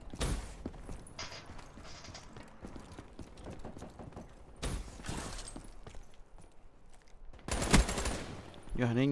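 Bursts of gunfire in Call of Duty Black Ops III, with rapid automatic volleys and mechanical clatter coming in several loud clusters, and a sharp loud burst near the end.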